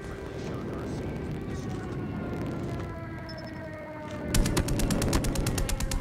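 The EM2 assault rifle fires in a shooting video game as a fast, loud burst of evenly spaced shots breaking in after a stretch of quieter game ambience.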